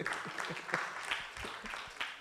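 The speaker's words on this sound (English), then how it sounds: "A big clap for second gens." Scattered applause from a crowd, uneven claps with a murmur of voices underneath, moderately distant.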